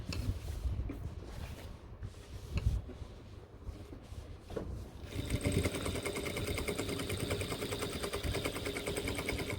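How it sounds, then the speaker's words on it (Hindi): An electric sewing machine stitching a seam on cargo pants runs steadily and close up from about five seconds on, after a stretch of quieter handling and fabric rustling. "1 फुट के बराबर गैप पे फिर से सिलाई लगाएंगे।"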